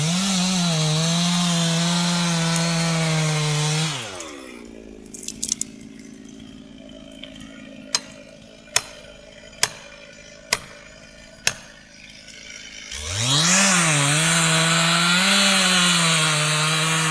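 A chainsaw cuts through a tree during timber harvesting in rough working weather. It roars loudly at full throttle, drops to a low idle with sharp knocks and cracks in between, then revs back up to a loud roar.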